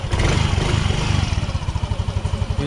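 Yamaha Mio i 125 scooter engine fired up after a fuel pump and ACC wire repair, a loud close chugging idle with a rapid, slightly uneven putter, with no voices over it.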